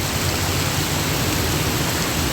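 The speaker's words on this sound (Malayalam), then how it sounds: "നല്ല മഴ പറഞ്ഞാൽ പെരും മഴ" Heavy rain pours down in a steady, dense hiss with no breaks, loud and enveloping, with no voices or other sounds.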